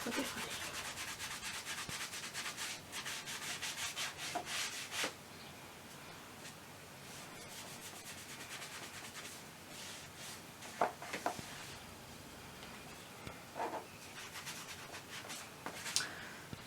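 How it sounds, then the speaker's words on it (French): Brisk scrubbing strokes on a saddle during cleaning, a rhythmic rubbing hiss repeated in fast bursts, louder at first and then softer with occasional sharper scuffs, close up and without speech. "Allez, on frotte, on frotte, on frotte, on frotte, on frotte."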